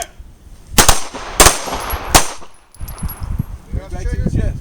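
Three loud, sharp pistol shots crack out about a second apart at a shooting drill, followed by a shouted command and faint handling noise.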